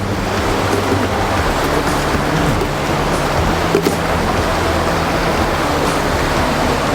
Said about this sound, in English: Well, it's started raining again.